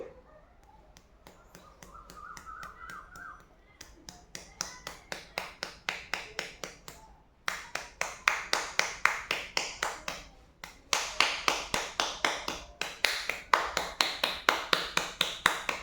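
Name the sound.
rain clap, clapping imitating rain getting louder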